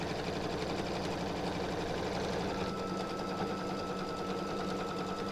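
Sewing machine stitching octagon quilt pieces, a fast even mechanical whirring with rapid needle pulses, close and steady, its tone shifting slightly partway through.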